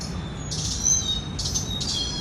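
Sparrows and other birds chirp in a rooftop garden on a rainy day, a few short bright calls in separate bursts over a low, steady background.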